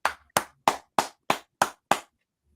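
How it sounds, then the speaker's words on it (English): Seven sharp, evenly spaced claps ring out close and clear, a lone pair of hands applauding a football play rather than a full crowd, each clap decaying quickly before the next. "Philadelphia's applauding."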